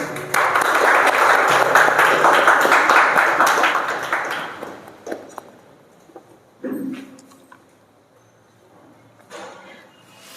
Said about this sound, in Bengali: একটা জোরে হাততালি তার জন্য।